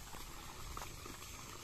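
Water flows from a 2-horsepower submersible deep well pump, a faint steady bubbling gush with a low rumble running evenly throughout.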